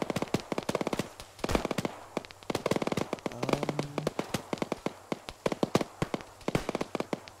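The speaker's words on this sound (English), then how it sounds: "Those mortars" Mortar shells burst in Arma 3 combat, heard as dense, rapid crackling blasts and sharp pops that repeat steadily throughout, loud and close with no pauses.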